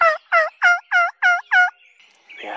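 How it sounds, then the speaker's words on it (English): A wild turkey gobbles nearby in six rapid, loud, evenly spaced bursts, followed by a brief lull and faint rustling outdoors. "Oh my word, there's a turkey."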